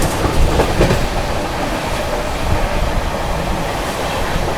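The 22222 CR Rajdhani Express passes at high speed in a continuous loud, close roar with a rushing rattle of wheels and carriages throughout.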